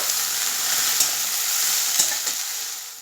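Boiled pasta stir-fried in a pan with egg and carrot: a steady, close sizzle with a few light clinks of stirring, no voices.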